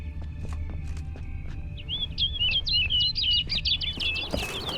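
A bird's quick series of bright, rapid chirps rises over outdoor ambience in The Witcher 3: Wild Hunt, with footsteps and hoof clip-clops in the background.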